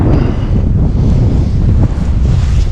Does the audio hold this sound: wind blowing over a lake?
yes